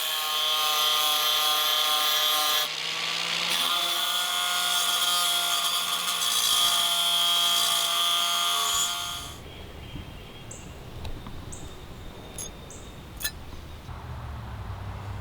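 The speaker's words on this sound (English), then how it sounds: "This angle grinder with a cutting wheel works perfectly for cutting out the arrowhead blanks" An angle grinder with a cutting wheel cuts iron arrowhead blanks, a loud, steady whine for about nine seconds that then stops, leaving quieter workshop handling noises and a few sharp clicks.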